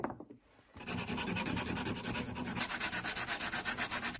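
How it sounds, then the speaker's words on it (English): Wooden gear teeth of a homemade odometer jig being sanded by hand, a steady rasping scrape that starts after a brief pause and settles into rhythmic back-and-forth strokes, close and fairly loud. "there's way too much friction between these teeth, so I'll have to sand everything to make it work"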